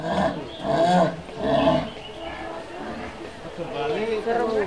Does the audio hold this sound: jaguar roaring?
yes